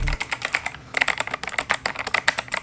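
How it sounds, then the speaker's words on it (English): A very clicky full-size mechanical keyboard is typed on in quick, uneven bursts of sharp, close key clicks with a brief pause partway through. "This is my other mechanical keyboard, very, very clicky."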